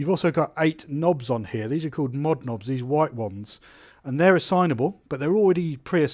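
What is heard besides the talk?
None of the usual background noises is heard.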